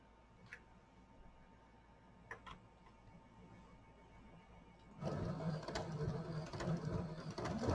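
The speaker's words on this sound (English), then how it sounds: "by sewing this 1/8 of an inch, we are capturing the front and back of this piece and the vinyl all together" A sewing machine stitching a clear vinyl project pouch. Quiet faint ticks come first, then a loud, fast, steady mechanical whir of stitching starts midway and runs to the end.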